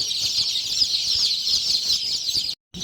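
Chicks in a brooder bedded with straw keep up a continuous, dense chorus of high peeping, close and fairly loud, broken by a brief cutout near the end.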